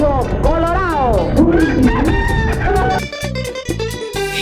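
A rooster crows loudly and close, several long rising and falling calls in a row, with clucking fowl and other sounds in the background; a voice talks briefly near the end.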